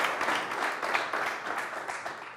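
An audience at a public talk on drugs and substandard goods given by Rwanda's investigation bureau claps, a steady wash of fairly faint applause from a crowd lasting the whole moment.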